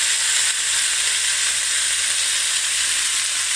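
Bulgogi meat frying in vegetable oil in a hot iron pan makes a loud, dense, steady sizzle, close up and constant throughout with no talking.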